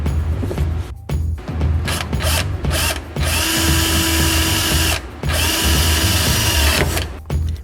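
Power drill boring pilot holes beside the pinch weld under a car's stock side skirt, through a pre-drilled side splitter: several loud, close whirring bursts of a few seconds each, separated by short pauses, the longest running steadily near the end.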